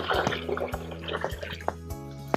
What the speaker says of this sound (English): We pour it into my bucket.